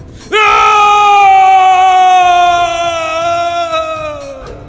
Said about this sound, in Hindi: तभी कुछ ऐसा हुआ जिससे ऋषि की चीख उस हवेली में गूंज गई